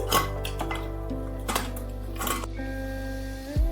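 Several light metallic clinks and scrapes as a pressure cooker lid is fitted onto the cooker, finishing with a firmer clunk, with soft music underneath.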